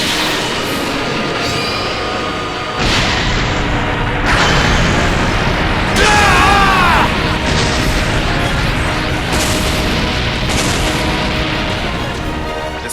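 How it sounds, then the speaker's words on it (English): A heavy anime energy blast in Dragon Ball as Moro's attack ravages Namek, a sustained roaring explosion with layered rumbling booms and a brief whistling streak midway, loud and continuous with no voice. "This most recent blast does some real damage."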